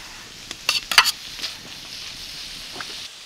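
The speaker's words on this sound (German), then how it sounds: "Jetzt machen wir hier in der Mitte einfach ein bisschen Öl und dann werden wir das Ganze mal schön alles knusprig anbraten" Bacon crisping in oil inside a Dutch oven at an outdoor camp kitchen, giving short crackling sizzles and a few scraping stirs, fairly close and moderately quiet.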